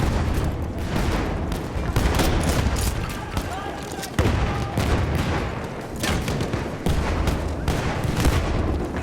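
Grenade blasts and rifle fire on a Battlefield 1 multiplayer battlefield, Amiens map: repeated loud booms and sharp gunshot bursts in an irregular barrage, dense and continuous throughout.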